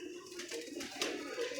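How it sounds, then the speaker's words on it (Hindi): Soft pigeon cooing, low throaty calls heard faintly against a quiet background. "मज़ेदार कबूतर आए हैं"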